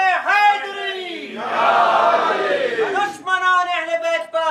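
A crowd chants religious slogans in loud unison at a religious gathering, swelling into a roaring collective shout between a speaker's amplified speech before and after.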